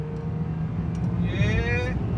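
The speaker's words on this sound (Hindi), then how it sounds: "जो ये आवाज करता है ना इंजन, पेट्रोल इंजन से ये आवाज सुन रहे हो आप इसकी," A Honda Civic petrol engine revs with a rising, whining tone, a steady hum under someone talking nearby.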